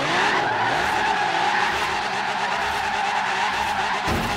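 A car skids and spins out in a racing video game, tires squealing loudly and steadily for several seconds over a droning engine, ending with an abrupt shift.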